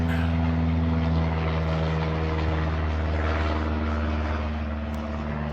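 An airplane flies overhead near an airport, its engine drone loud and steady throughout with a deep propeller hum and little change in level.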